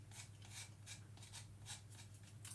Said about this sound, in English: you just scrape it down the sides of the lemon and it just scrapes the zest off and none of the bitter pith